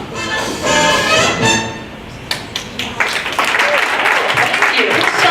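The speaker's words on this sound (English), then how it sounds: "Who started that applause?" Audience applause after a keynote speaker, bursts of clapping that swell and dip over a few seconds, with a voice talking over it.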